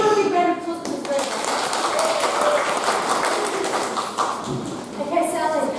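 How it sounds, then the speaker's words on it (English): An audience gives a round of applause, a spread of scattered hand claps running under a voice talking over the crowd. "Give her a big round of applause for this."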